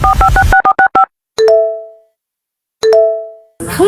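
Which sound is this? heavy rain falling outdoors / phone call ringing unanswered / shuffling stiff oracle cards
phone call ringing unanswered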